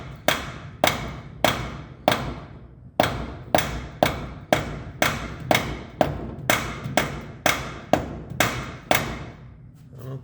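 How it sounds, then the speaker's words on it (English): A soft hammer strikes a CV axle being seated into an S10 front differential fitted to a Chevy Astro van. About sixteen sharp, close blows land in a steady rhythm with short ringing decays, and no one speaks. "I have to get a little bit heavier on the hammer"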